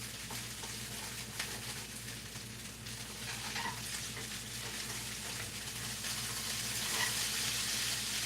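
Hash browns fry in hot oil with a steady, dense sizzle and crackle, close and continuous, gradually growing a little louder with no talking over it.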